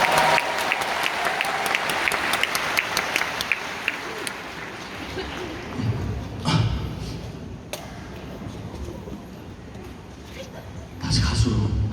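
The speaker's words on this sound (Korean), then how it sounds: "자 우리 네 분한테 큰 박수 부탁드릴게요." A concert crowd at a 2019 show in Cheonan breaks into loud, dense applause that fills the whole stretch, dipping midway and swelling again near the end, with a voice speaking over it.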